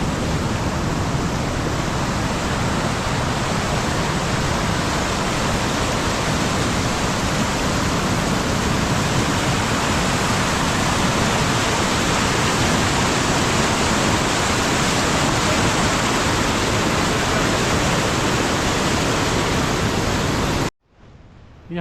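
A mountain river on the Hampta Pass trek rushes steadily at a crossing point, a loud, continuous broadband roar of flowing water that stays even throughout before cutting off abruptly at the very end.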